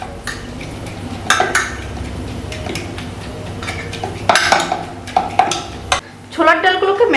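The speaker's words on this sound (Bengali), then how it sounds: "এখন এইভাবে একটু ছোলার ডালগুলোকে ম্যাশ করে নেব।" Boiled split chickpeas (chana dal) are mashed in a metal pot, giving scraping, clinking utensil sounds against the pan over a steady background hiss, with sharper knocks midway and a voice speaking near the end.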